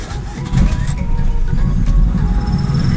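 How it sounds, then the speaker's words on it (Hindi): A 2008 Hyundai Accent engine catches and settles into a loud, steady low idle rumble close by after repair work, with a faint whine running through it. "आपके सामने गाड़ी स्टार्ट है"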